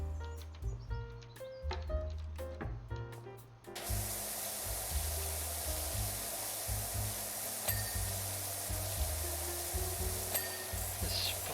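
A pressure washer in the game Powerwash Simulator 2 sprays a toilet. The broad hiss starts abruptly partway through and holds steady at a moderate level over a low, rhythmic thumping from a music track.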